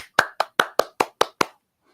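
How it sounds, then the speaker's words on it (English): Seven or so crisp, evenly spaced hand claps in quick succession, close and loud, then silence; a sparse, small applause rather than a crowd. "Round of applause for Downrange"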